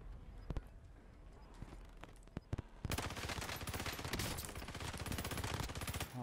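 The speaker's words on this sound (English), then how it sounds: "Oh, why are bullets so loud?" Gunfire in the battle royale game Call of Duty: Warzone: a few scattered sharp shots, then a sustained rapid burst of automatic fire that runs loud and continuous, with a voice in the background.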